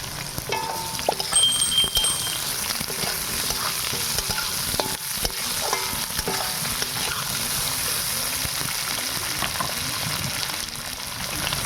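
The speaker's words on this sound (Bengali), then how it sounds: "পেঁয়াজের সাথে আলুটাও ভাজা হয়ে যাবে।" Potato and onion fry with black cumin in a pan for a monsoon fish curry, a steady close sizzle running throughout, with soft scraping and clinks of stirring.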